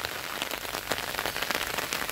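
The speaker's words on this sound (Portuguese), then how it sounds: "Chuva muita mesmo." Dense rain falls hard on a Northeastern Brazilian garden, a constant near hiss of drops pattering on soil, plants and an umbrella, uniform and loud throughout without any talk.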